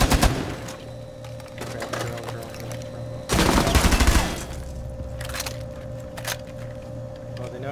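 Machine gun fire in the Rainbow Six Siege video game, with sharp rapid bursts, one loud close volley in the middle, set against steady game ambience and a low hum, while someone talks over parts of it.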